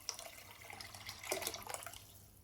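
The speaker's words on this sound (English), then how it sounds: "In a trusty cooking pot, combine 3 cups of dal with 6 cups of water." Water is poured into a cooking pot holding yellow dal for a Hyderabadi lentil and vegetable curry. The splashing and trickling pour is faint and close, building briefly midway and then thinning out.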